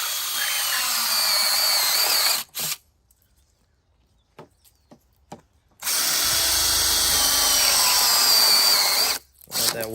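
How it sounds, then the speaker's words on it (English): Cordless drill with a unibit step bit boring straight through a 4-inch cap, loud close whirring bursts that stop for a few seconds of near silence with faint clicks before the drill spins up again, then a brief final pause. "Next up, I put a 4-inch cap, and I use this drill bit."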